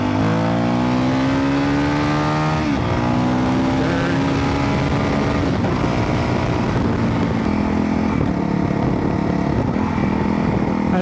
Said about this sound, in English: I don't know if you can hear me changing gears, but it's pretty quick.